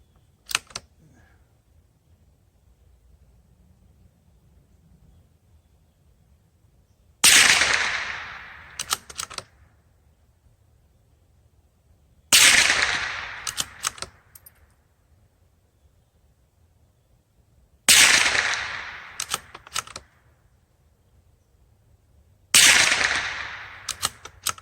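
A CZ455 rifle fires hollow point rounds rated at 1,200 feet per second, four sharp, loud single cracks spaced several seconds apart with quiet between, each followed by a few small mechanical clicks.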